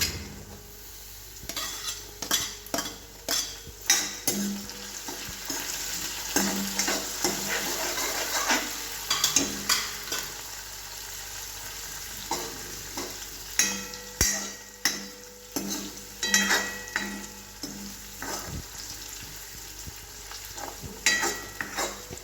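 Chillies fry in a pan and are stirred, with loud, repeated spatula scrapes and knocks against the metal in bursts over a continuous close sizzle, pausing briefly between rounds of stirring.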